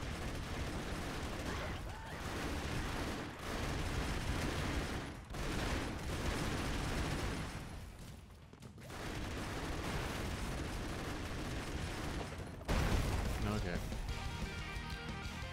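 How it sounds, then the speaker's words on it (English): Gunfire and a gigantic explosion in the run-and-gun video game Broforce: dense, continuous bursts of shooting and blasts roar loudly for most of the stretch, with brief drops between them, while a voice talks over the action. "All's well that ends with a gigantic explosion."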